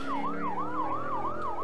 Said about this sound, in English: You might want to turn your lights and sirens.